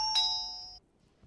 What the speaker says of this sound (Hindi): मैं यहाँ घंटी बजाने की कोशिश कर रहा हूँ